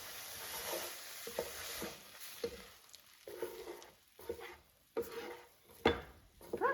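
Cooked rhubarb being scraped and stirred out of a hot frying pan, with soft lingering sizzle and irregular clinks and scrapes of a utensil against the pan, close and fairly quiet.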